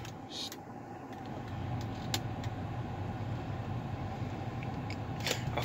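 A Lincoln Navigator's engine idles at about 600 RPM, a steady, low, close rumble with a few faint clicks and knocks over it.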